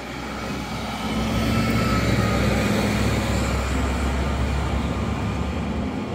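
A train rumbles steadily along an overhead track at the port of Halifax, a loud, continuous roar that swells after the first second and holds without speech.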